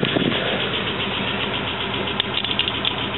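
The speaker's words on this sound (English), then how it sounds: "This car's been running for about 2 minutes" A 1941 Ford Super Deluxe two-door sedan engine idles steadily after a couple of minutes of running, a constant even rumble close by with a few faint clicks near the end.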